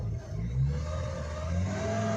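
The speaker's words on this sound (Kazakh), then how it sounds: "міне мысалы газ басамын да газымын" A Mercedes Sprinter 2.9 diesel van converted to run on gas and petrol, its engine rising in a short, steady rev as the accelerator is pressed, heard up close.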